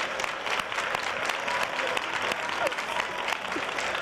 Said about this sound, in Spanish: un fuerte aplauso para Margarita de Torres